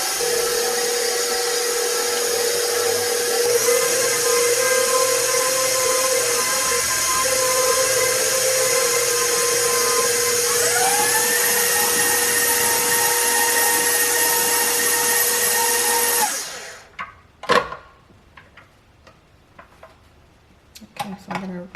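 An electric mixer with a whisk attachment blends thick buttermilk pound cake batter in a steady, loud whirring drone that shifts pitch partway through, then cuts off, followed by a few clinks and light handling sounds.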